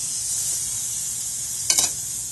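A 36 oz porterhouse steak topped with butter sizzles on a grill, a steady bright hiss under a brief louder crackle near the end, with no talking.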